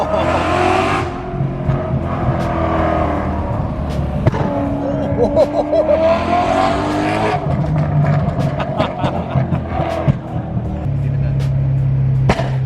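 A BMW E92 M3 fitted with a loud aftermarket exhaust downshifts outside, its engine note rising and falling through blips and crackles, loud and close, with excited voices shouting over it.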